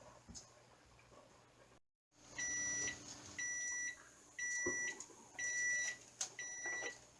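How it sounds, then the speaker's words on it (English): Kitchen timer beeping while a pressure canner runs for beef and pork stew: five short bursts of high electronic beeps, each a quick cluster, repeating steadily over a faint kitchen hum with no talking. "that was the final timer going off"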